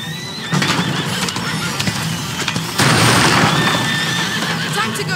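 A horse in the video game A Plague Tale: Innocence whinnies and neighs loudly amid clattering hooves, rumbling and a tense chase soundscape.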